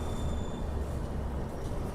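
The Garib Rath SF Express runs from Yesvantpur toward Secunderabad, a loud, continuous rumble of carriages and wheels heard from on board, steady and without voices.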